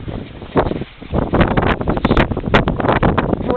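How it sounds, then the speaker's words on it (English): Blizzard wind in Chicago roaring and buffeting the microphone outdoors while snow blows, loud gusting rumbles surging irregularly with brief lulls. "Wind is howling, snow is blowing up, down, sideways."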